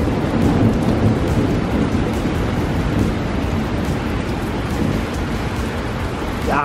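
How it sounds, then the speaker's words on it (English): Heavy rain pours steadily during a nighttime thunderstorm at Walt Disney World, with a low continuous rumble of thunder blending into the downpour, loud and unbroken, no voices. "the thunder is quite loud tonight"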